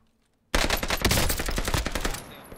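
Rapid automatic gunfire in the video game Warzone, a loud, dense burst starting abruptly after a brief silence and rattling continuously to the end.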